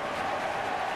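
A stadium crowd in a FIFA 18 football match claps and cheers in a steady, dense wash of applause at moderate volume.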